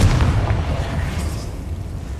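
A Confringo fire spell bursting in the Hogwarts Legacy video game: one heavy, low boom at the start that rolls off into a rumbling decay, loud and close.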